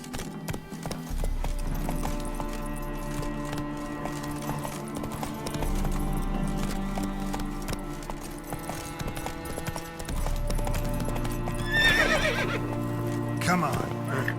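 Hooves of Roach, a horse in The Witcher 3: Wild Hunt, clip-clop steadily across the ground with creaking tack, then a loud neigh near the end, over a low background score and in-game voices.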